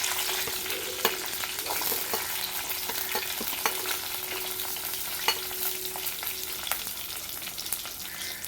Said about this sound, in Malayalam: ആ ചെറിയ ഉള്ളി ഇതിലോട്ടങ്ങ് ഇട്ട് കൊടുക്കാം